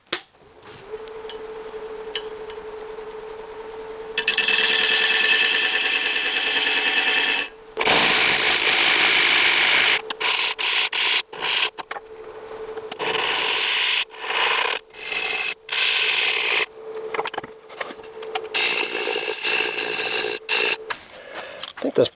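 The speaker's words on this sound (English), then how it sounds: "what I'm now going to do is cut a recess" A wood lathe cuts a recess into a walnut offcut with a tool, giving loud scraping and rasping bursts that start and stop repeatedly over a steady motor hum.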